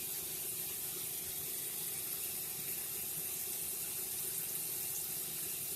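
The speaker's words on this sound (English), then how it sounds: "I'm going to go ahead and pour this tea inside of this bottle." Tea poured into a bottle, a steady continuous watery hiss running unbroken and fairly faint, with no talking over it.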